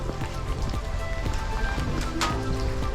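Rain falls on the Nakasendo trail in Japan as a steady, dense hiss with scattered sharp drop ticks, continuous and fairly close, with no voices.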